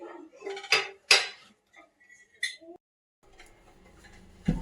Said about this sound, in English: Now again, second one, again put oil in idli patta bowls.